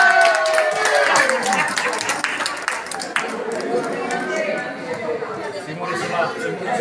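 At a lunch on Monte Amiata, a crowd applauds Simone, who joined the choir: clapping starts strong and thins out under lively chatter and voices over several seconds.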